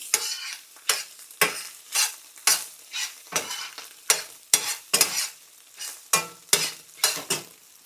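Eggs cooking in a pan give a soft sizzle broken by repeated scraping strokes of a spatula, about one or two per second, close and fairly quiet.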